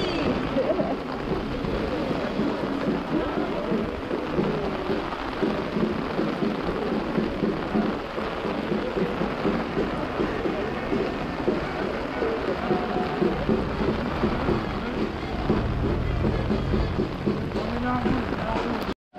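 Rain falls during an outdoor recording at a citizens' debate and demonstration in Besançon in December: a steady wash of rain pattering on surfaces throughout, with faint low rumbles and indistinct background voices mixed in.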